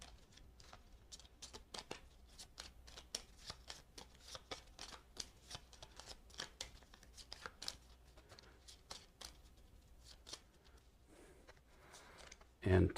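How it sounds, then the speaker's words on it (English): G.I. Joe deck-building game cards riffle and slap in repeated quick bursts, a soft papery shuffling that continues throughout, ending with a sudden loud thump. "Plus we need to shuffle these up now."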